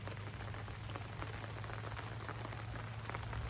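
Light drizzle falls over a home vegetable garden with luffa and melon vines, a soft, even patter of drops with a faint low hum underneath, steady throughout.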